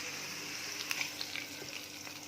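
Curry leaves tempering in hot ghee for Tamil Nadu pongal, a quiet steady sizzle with a few small crackles and pops.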